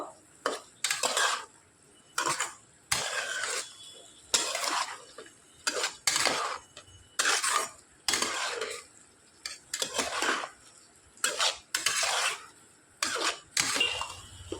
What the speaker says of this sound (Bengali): এগুলোকে এবার দিয়ে দিচ্ছি নাড়াচাড়া করে মিশিয়ে নেবো